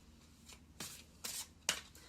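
A few soft, separate bursts of tarot cards being shuffled close by, quiet with short gaps between them.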